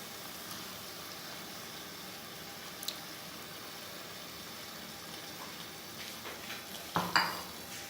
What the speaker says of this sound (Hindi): मैं इसमें थोड़े आलू डाल रही हूँ